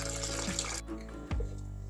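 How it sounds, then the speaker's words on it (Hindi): Water poured from a tap or jug onto washed jowar (sorghum) grains in a bowl to soak: a steady, splashy stream that thins partway and then runs on, with no voices. "अब हम इसमें पानी डालेंगे"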